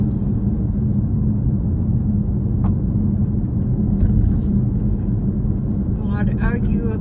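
Steady low rumble of a car driving along a road toward town, constant engine and tyre drone filling the cabin, with a faint higher squeak near the end.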